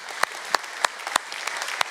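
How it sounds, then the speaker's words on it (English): Applause from a church audience for its leaders, a dense wash of many hands clapping with a few sharp louder claps standing out, steady and moderately close. "how about one more round of applause for these leaders?"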